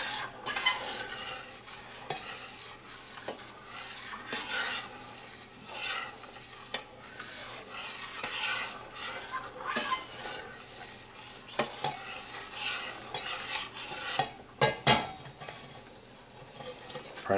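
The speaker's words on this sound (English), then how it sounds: "Bring it back up to a boil." Kumquat jam bubbles in a pot while a utensil stirs it, with repeated scraping and clinking strokes against the pot over a soft, steady simmer, close and fairly quiet, without talk.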